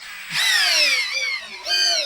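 A CANLIDI CID-60 cordless drill with 60 Nm of torque runs in drill mode on gear 2. Its motor whine spins up sharply, holds, dips briefly, then surges again, loud and close with no talk.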